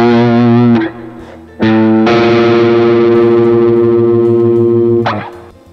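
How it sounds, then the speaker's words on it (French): Loud, distorted sustained notes forming a minor second, two pitches a semitone apart rubbing against each other with a beating, harsh texture, sounded in a few held bursts with short breaks. "Une seconde mineure, c'est un intervalle d'un demi-ton."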